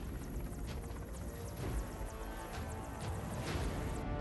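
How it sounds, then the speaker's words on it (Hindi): Indian Air Force helicopters come down into flooded farm fields during the July 2017 Gujarat floods, a loud, steady rotor roar with a continuous thumping wash that fills the scene, with no voices. "खेतों में देवदूत बनकर उतरते हेलीकॉप्टर्स को देखकर लोग कितने खुश हैं"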